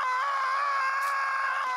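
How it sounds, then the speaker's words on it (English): Loud cartoon shouting from the Screaming Swiss, a sustained high wailing yell held steadily without pause. "Among the loudest of the world's shoutmasters are the famous Screaming Swiss of Switzerland."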